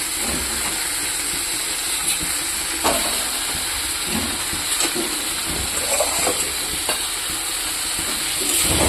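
Fish curry with fried potatoes and tomato being sautéed in a pan, a steady sizzling hiss with scattered stirring scrapes and small spatters running close throughout, no voices.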